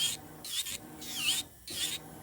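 Electric nail drill filing a fingernail at slow speed, giving a close, faint whirring rasp in short bursts that start and stop repeatedly.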